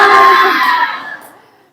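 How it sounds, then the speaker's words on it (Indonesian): A classroom of children at an Indonesian school loudly chants and claps the tepuk semangat routine together. The voices are close and energetic, then trail off over the second half. "Biar kita semangat belajarnya, kita tepuk semangat dulu ya."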